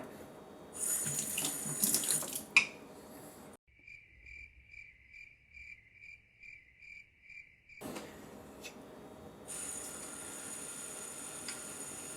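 Water runs from a tap into a sink set up for sharpening a straight razor, a steady close splashing hiss that stops for a few seconds, leaving a faint rhythmic chirping, then resumes.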